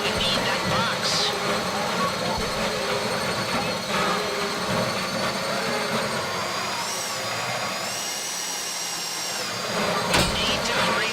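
Drill from a video game whines steadily in a busy mix, loud and continuous for about eleven seconds with mechanical hum and rising tones, while voices talk over it.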